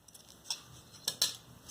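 Scissors cutting cloth into a petal shape for a garland give a few close, crisp snips, quiet and alone, with no talk.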